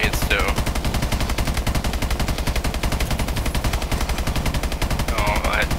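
Rapid automatic gunfire in the Exo Zombies mode of a video game, a loud unbroken stream of evenly spaced shots, with brief voices at the start and near the end.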